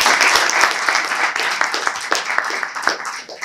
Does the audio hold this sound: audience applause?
yes